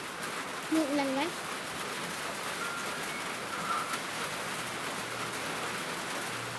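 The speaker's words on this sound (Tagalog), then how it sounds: "Yung ulan, guys." Rain falling during a typhoon, a soft steady hiss of drops throughout, with a brief chirp of a bird and faint voices in the background.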